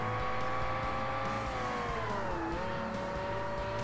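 A race car engine in Forza Motorsport revs high at Road Atlanta, a loud, continuous whine that holds, drops in pitch, then settles into a steady tone, with no talking.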